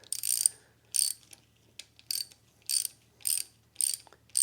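Ratchet clicking in regular bursts, about seven evenly spaced, close and crisp with near silence between, while bolts are tightened on a Land Rover 2.25 engine during a camshaft and timing rebuild.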